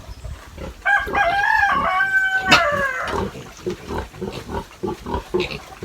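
On a farm, a sow grunts while a rooster crows loudly in the foreground, with other livestock noises and scattered thumps around it.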